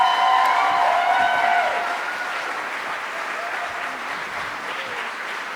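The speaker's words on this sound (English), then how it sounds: "so that deserves a round of applause" Applause from a concert audience at a high school jazz band performance, loud and dense at first, then easing to a steadier, softer clapping that continues throughout.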